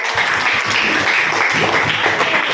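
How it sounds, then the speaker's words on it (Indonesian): Classroom applause for students' work after a science lesson demonstration, a steady patter of many clapping hands filling the whole short stretch at moderate loudness. "Kita beri dulu tepuk tangan untuk kerja."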